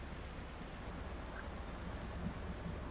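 Rain falls in Farming Simulator 19 on the Medicine Creek map, a constant even hiss of drops with no breaks and no talking.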